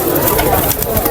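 Pigeons coo amid the dense, constant crowd noise of a busy pigeon market at Nazirpur bazaar, with voices of people talking mixed in throughout the short stretch.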